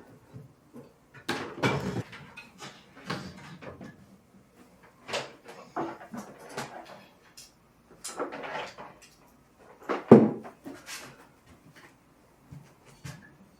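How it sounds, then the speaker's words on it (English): Old thrifted wooden drawers being handled and shifted indoors, giving scattered knocks, scrapes and slides in irregular bursts separated by quiet gaps. "I'm also gonna let these drawers air out a little bit because they are a little musty."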